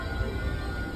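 Inside a moving commuter train in Japan: a steady, dense rumble and roar of the carriage fills the space at a constant level, with no clear voices.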